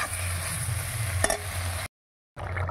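Potatoes and pointed gourd frying with spices in a pan give a steady, close sizzle with one brief scrape partway through, then a short silent gap before the frying hiss returns.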